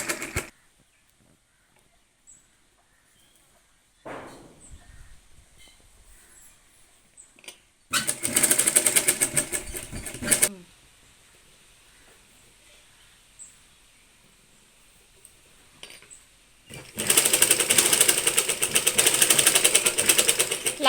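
A normal household sewing machine stitching a saree fall, running in two loud bursts of rapid rattling stitches separated by quiet pauses, with soft handling noises between.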